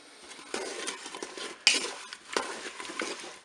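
A spoon scrapes and clinks steadily against a Cookeo pot while pineapple, apple and vanilla sugar compote is stirred, close and fairly loud, with irregular knocks and a sharper clank near the middle.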